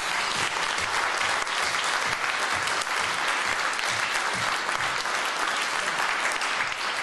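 Steady, dense applause from a sizable audience at an award ceremony in Frankfurt, continuous and loud throughout with no pauses.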